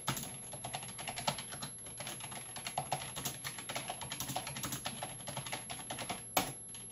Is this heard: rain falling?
no